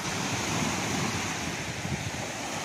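Waves break continuously against the shore of the KRS backwaters reservoir near Mysore, a steady, loud wash of surf mixed with heavy wind buffeting the microphone.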